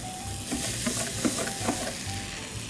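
Red wine vinegar hits a hot pan of elderberries and sets off a steady, close sizzle, with soft stirring scrapes and small pops across the whole stretch.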